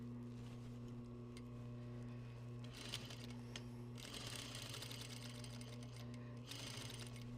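A sewing machine stitches a seam in a fabric strip at a 1/2 inch seam allowance, its steady motor hum running continuously and close, with brief bursts of faster stitching and some handling noise, no talk.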